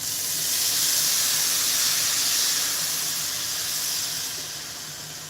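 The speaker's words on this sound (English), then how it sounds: "I'm gonna add a little bit of my Simply orange juice" Orange juice hits a hot pan and sizzles in a loud, steady hiss that holds for several seconds, then eases slightly toward the end, with no voices over it.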